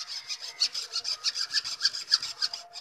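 A hand saw cutting through a bamboo stalk for a cup or jug handle, about a dozen quick rhythmic back-and-forth strokes with a dry rasping scrape, close and fairly quiet, no talking.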